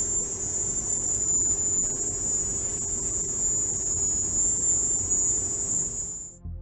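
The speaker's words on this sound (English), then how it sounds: "that was the sound of a cricket, specifically a Jamaican field cricket" A Jamaican field cricket, the insect behind the alleged Havana sound recording, gives a continuous piercing high-pitched shrill that holds steady throughout over a low background rumble, then stops near the end.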